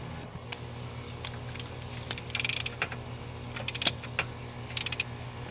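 A ratchet with a swivel and extension turns timing cover bolts through the fender area of a 2000-2006 Lincoln LS 3.0L V6, giving short bursts of metallic clicking over a low steady background hum.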